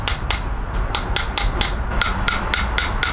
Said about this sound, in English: This is what I'm using to hammer it in.